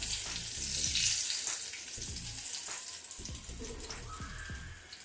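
Masala mirch bajji, stuffed chilies in batter, frying in hot oil, with a steady close sizzle and crackle and a few soft clatters from handling.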